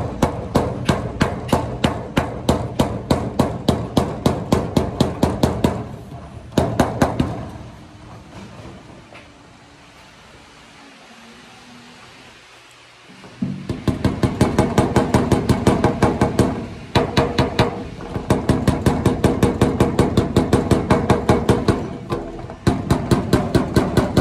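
Rapid, rhythmic hammer taps ring on a metal roll-up door in long runs, knocking out a dent, pausing for several seconds midway before the steady tapping resumes.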